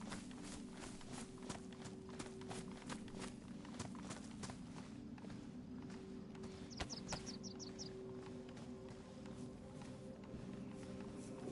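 Heavy working boots tramping along in the survival game DayZ, a steady run of clumping footsteps over a constant low hum, with a brief bird-like chirp partway through.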